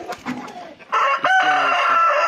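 A farm rooster flaps its wings in a short, noisy burst, then lets out a loud, close crow with a clear harmonic call that holds for over a second, other fowl faintly audible behind.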